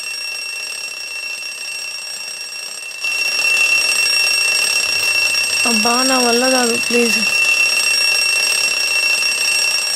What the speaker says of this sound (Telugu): నేబర్స్ డిస్టర్బ్ అవుతున్నారే, అలారం ఆఫ్ చేయవే